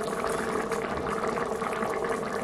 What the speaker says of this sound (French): C'est chaud, hein, ça continue à bouillir.